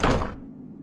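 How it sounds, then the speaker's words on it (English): A single heavy knock on a palace door in an animated story, a short dull thud that rings briefly and fades. "A few minutes later, the monkey knocked on the palace door."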